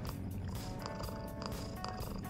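Soft, rhythmic purring from a petted cat character in Persona 5 Royal, repeating in short pulses under a continuous bed of game music.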